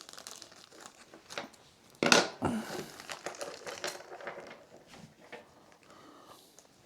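Plastic packaging around a Competition Pro or ArcadeR joystick being cut and torn open, with a loud crinkling rip followed by repeated rustling and crackling handling nearby.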